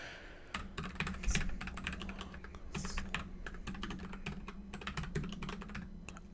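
Typing on a computer keyboard while coding a Node.js user registration system in VS Code, with rapid uneven bursts of close key clicks and brief pauses, no voice.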